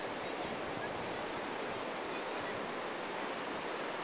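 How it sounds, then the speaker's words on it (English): Steady wind and surf on a beach, a dense, continuous broadband roar with no gaps or distinct wave breaks, alone and fairly even throughout. "The wind's perfect. And you're on the beach."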